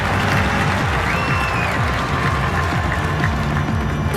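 A stadium crowd applauding steadily in a London 2012 Olympic video game, dense clapping that stays loud and even throughout with a faint murmur of cheering beneath.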